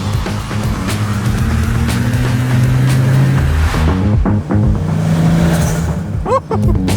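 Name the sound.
turbocharged Toyota Supra driving with blow-off valve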